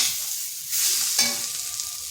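Egg and flat bean curry stir-fried with spices in a pan over low heat gives a steady close sizzle, with a brief scraping stir partway through and no voices.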